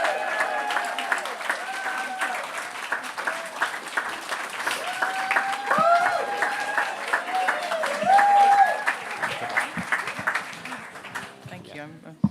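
Sustained applause from a poetry-night crowd as a performer takes the stage, dense clapping lasting several seconds while a voice talks over it, thinning out toward the end.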